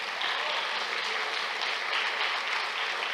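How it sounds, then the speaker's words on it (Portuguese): Applause from a church class audience, a steady dense wash of clapping hands that fills the whole stretch at even loudness, with no voices on top. "Vocês merecem uma salva de palmas de vocês mesmos"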